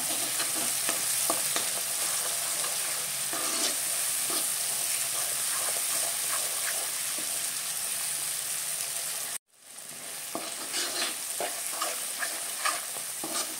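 Homemade masala for a chicken thali sizzles and fries steadily in a pan while it is stirred, a continuous loud hiss with scraping stirs, briefly cutting out near the end before resuming.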